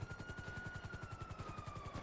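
Helicopter in the video game GTA, its rotor chopping in a steady, rapid beat with a thin whine riding above, held at a moderate distance for the whole stretch with no talking.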